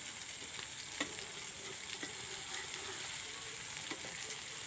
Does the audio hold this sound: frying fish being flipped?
yes